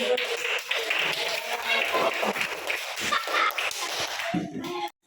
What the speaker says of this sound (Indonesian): Oke, aplaus buat kalian semuanya. Aplaus dulu lah